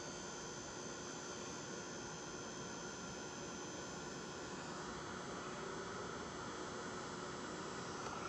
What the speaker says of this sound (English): I'm gonna take my heat gun, my little Tim Holtz heat tool here